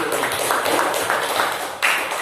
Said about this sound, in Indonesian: kita berikan tepuk tangan untuk kelompok 1 sekali lagi.